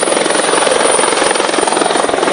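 Helicopter landing to pick up detainees accused of clearing and burning forest in Riau, its rotor chop loud and steady throughout, close and continuous with no voices.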